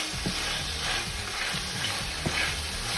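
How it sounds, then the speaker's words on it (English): Meat browning in olive oil in a pan for a Philly cheesesteak sandwich, stirred steadily: a constant close sizzle with repeated scraping strokes of the spoon against the pan, no talking. "Now I'm gonna add a little bit olive oil. I really stir this."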